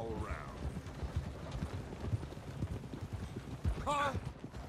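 Horses gallop in the Red Dead Redemption 2 video game, a steady rapid drumming of hooves throughout, with voices talking over it and a brief vocal horse sound near the end.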